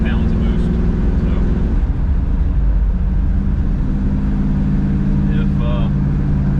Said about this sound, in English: when that turbo kicks in the Valiant, man, it's a different world